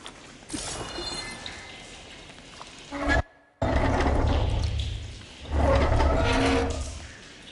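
Water leaking from a valve system in the video game Horizon Forbidden West, a rushing, gurgling flow with mechanical clanks that drops out briefly near the middle, then surges back loudly and steadily.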